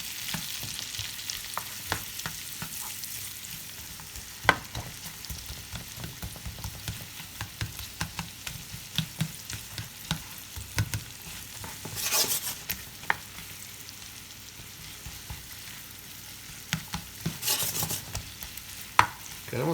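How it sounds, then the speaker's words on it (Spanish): Vegetables frying in butter in a pan for rice, a steady sizzle running throughout with frequent scraping and stirring clatter and a few louder hissing bursts, close by with no voices. "Ya que ponemos la mantequilla, le vamos a echar todos los vegetales. Los vamos a guisar."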